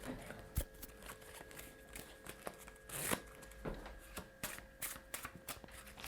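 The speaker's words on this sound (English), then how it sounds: "I'll give them a dynamo shuffle like this." A deck of playing cards being shuffled in a flashy dynamo-style shuffle, giving a rapid series of crisp riffling snaps and soft flutters close by over a quiet room.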